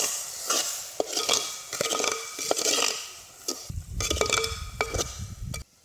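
Masala of chili powder, coriander powder, garam masala and crushed garlic fries in a pan with oil, faint sizzling under repeated scraping strokes and clinks of a spoon against the pan, close by.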